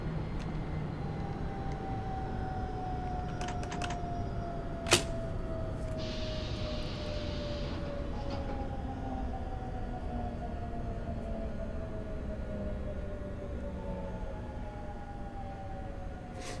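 A metro train in the Hmmsim Metro simulation game passes in the opposite direction, with a steady rumbling run and rising and falling motor whine over a constant cab hum, plus a brief sharp click midway.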